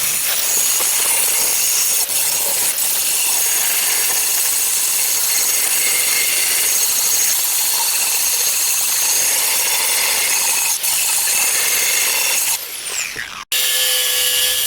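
A grinder runs continuously and loudly against steel welds on a homemade charcoal chimney starter, a steady close harsh whine that drops away abruptly near the end.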